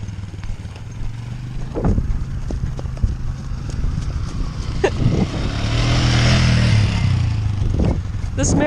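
A horse's hooves clip-clop in a steady walking rhythm on a hard surface, loud and close, while a motor vehicle passes and swells in the background.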